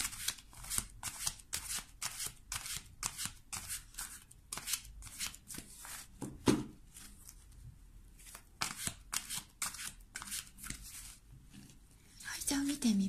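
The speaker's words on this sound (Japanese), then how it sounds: "こちらのカードから5枚ほどカードをこうね、つらつらつらつらと並べていきたいと思います" Oracle cards are slid and laid out on a table in a quick run of crisp swishes and flicks, rhythmic with short pauses, while someone talks softly over the cards.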